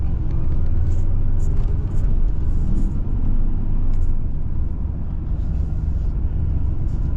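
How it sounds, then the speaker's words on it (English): Road traffic in Acworth, Georgia, heard as a continuous low rumble of car engines and tyres from inside a moving vehicle, steady and fairly loud throughout. "Acworth traffic."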